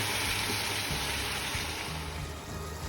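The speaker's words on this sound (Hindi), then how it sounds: "अब जो 1 गिलास पानी रह गया था वो भी डाल देंगे।" Water from a glass is poured into a pot of frying mutton, a soft continuous gushing and sizzling wash lasting a few seconds at moderate level.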